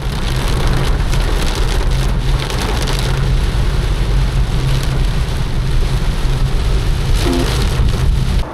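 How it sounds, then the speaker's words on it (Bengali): Heavy monsoon rain pours in the Netarhat hills near a temple, a dense, loud, continuous roar of water hitting surfaces with no talk. "এরপর শুরু হলো ধোঁয়াধার বৃষ্টি।"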